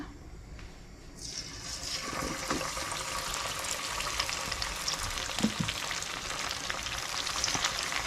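Chicken pieces sizzle and crackle in very hot oil, a steady dense frying hiss that swells as pieces drop in, close and loud with no talking.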